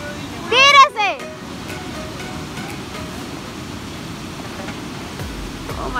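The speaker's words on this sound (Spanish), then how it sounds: "Vean qué linda cascada." A waterfall on a river gives a steady, broad rush of falling water throughout. A brief high-pitched voice shriek sounds near the start over the constant roar.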